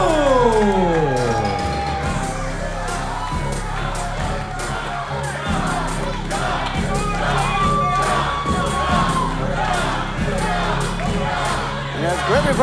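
Wrestling arena crowd cheers and shouts for Cash Flow, a dense, steady roar of many voices with whoops and rising yells across the whole stretch, loud and continuous.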